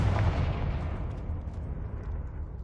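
Fire and blast spells cast in a Hogwarts game, a deep booming explosion with a rumbling low-end tail that slowly fades over about two seconds, without speech.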